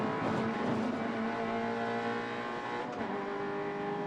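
Onboard a TR 86 race car lapping Ruapuna circuit, the engine drones loud and steady at high revs, holding a continuous tone with a slight shift near the end.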